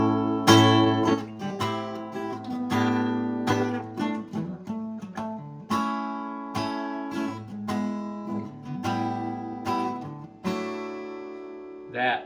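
Guitar plays the opening part of a song, strummed chords and picked notes ringing in a steady, full rhythm, close and fairly loud for about twelve seconds, with no talking.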